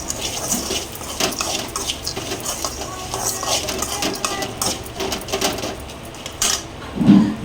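A spoon stirring a garlic tempering with corn kernels in a metal pan, close rhythmic scraping and clinks of cutlery against the pan, ending in a louder knock, no talking.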